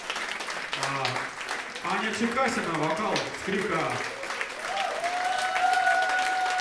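Concert crowd applause, a brisk continuous clapping texture that holds steady throughout while someone speaks over it, introducing band members by name.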